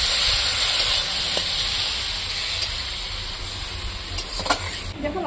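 Spice masala with garlic sizzles and fries in a pan while being stirred, a continuous close hiss with scraping stirs near the end.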